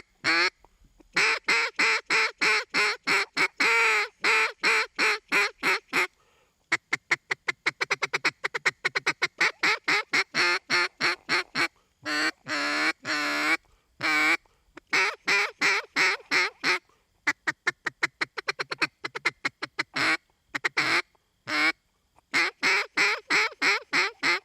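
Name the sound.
duck call blown to imitate duck notes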